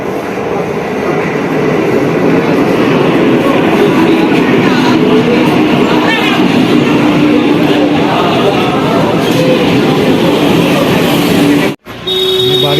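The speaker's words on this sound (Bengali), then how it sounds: "2 নম্বরে আছে শিয়ালদা যাবে ট্রেনটা" A train waits at a station platform, bound for Sealdah, with a loud continuous rumble and hum of the carriages and engine close by, brief clatters and a sudden sharp dropout near the end.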